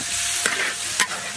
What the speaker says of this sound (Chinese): 把西红柿的汁都炒出来